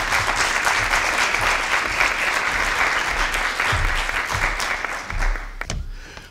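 An audience gives sustained, loud applause to welcome a guest speaker at a teacher education lecture, steady dense clapping that tapers off near the end.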